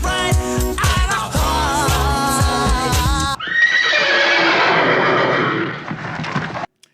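A horse neighs in one loud, long whinny that drops off at the end. A burst of music plays just before it.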